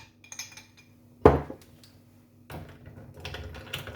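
Ice cubes clink and rattle into a glass of low-sugar fruit punch, a sharp loud clatter followed by smaller scattered knocks and tinkles up close.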